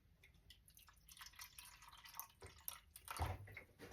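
Water dripping and trickling from a hole in a leaking distilled water container, quiet irregular drips and splashes over several seconds, with a slightly louder splash near the end.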